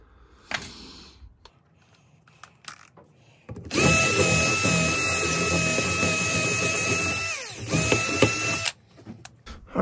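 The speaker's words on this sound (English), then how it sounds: "Probably gonna wanna get a bigger drill bit though," Power drill boring through a worn Boss Plow RT3 Smarthitch 2 hitch: a few light taps and clicks, then a loud, steady high-pitched drilling whine for about five seconds that cuts off abruptly, followed by scattered clanks.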